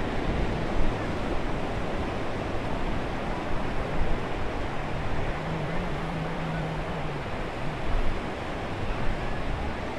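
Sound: ocean waves at the beach in Stone Harbor, New Jersey

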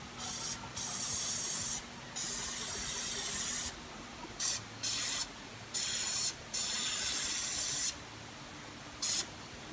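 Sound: waterproofing sealant aerosol spray

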